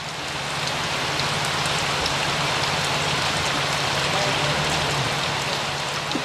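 Steady, dense rain pours down without a break, a broad hiss of drops hitting surfaces close by, with a low rumble underneath.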